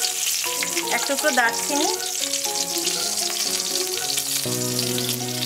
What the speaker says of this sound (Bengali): এবারে এই একই তেলের মধ্যে আমি 2টো তেজপাতা দিয়ে দিলাম